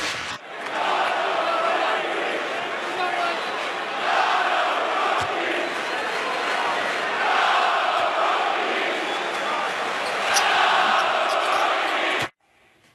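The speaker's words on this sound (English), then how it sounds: "That is the Boston crowd yelling, not a rookie." A Boston arena crowd chants and yells at Ben Simmons while he shoots at the free throw line: a loud, sustained roar of many voices with rhythmic surges, steady for about twelve seconds before cutting off abruptly.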